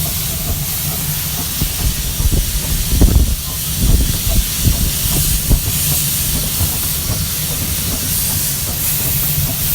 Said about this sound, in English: That was what was leaking or hissing the steam out down below the cylinders.